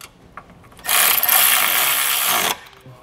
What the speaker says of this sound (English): we can go ahead and put this nut back on and tighten it up